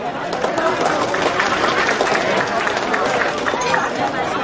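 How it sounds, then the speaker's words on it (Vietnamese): An audience at a Vietnamese community fundraiser in Vancouver for a boat people memorial gives a dense, steady round of applause, with crowd chatter mixed through it for the whole stretch. "Xin cho tất cả quý vị đại diện cho các hội đoàn một tràng vỗ tay"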